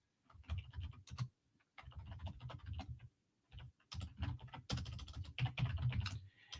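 Rapid clattering keystrokes on a computer keyboard, typed in uneven bursts with short pauses between, close and fairly clear.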